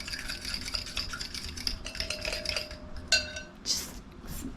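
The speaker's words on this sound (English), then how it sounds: "when I'm doing something like this, I normally take just a fork and I'll whisk it together." Fork whisking cookie dough ingredients for chocolate chip cowboy cookies in a bowl, a steady rapid scraping and tapping rhythm close by, ending with a few louder clinks against the bowl, no talk.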